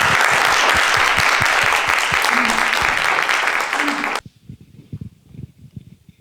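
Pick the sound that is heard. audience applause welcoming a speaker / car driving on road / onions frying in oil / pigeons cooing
audience applause welcoming a speaker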